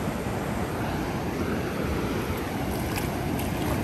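Choppy ocean waves at Daytona Beach make a dense, steady roar of surf, with heavy wind noise buffeting the microphone throughout.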